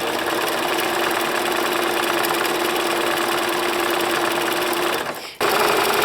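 Sewing machine running a dense satin zigzag stitch on an appliqué, a loud steady mechanical hum and rattle that drops out briefly near the end before resuming.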